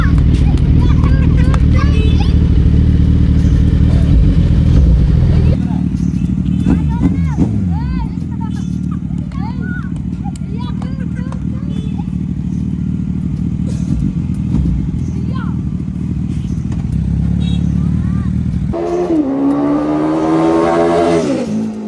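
A superbike's engine idles with a steady low rumble for about twenty seconds while several voices, including a child's, talk over it, then revs up sharply near the end.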